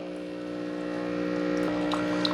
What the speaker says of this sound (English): We hear the water pump.